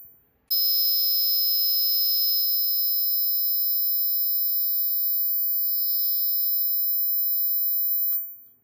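An ultrasonic carving machine set to level 4 emits a loud, steady high-pitched whine that starts abruptly, holds unbroken for about eight seconds, then cuts off.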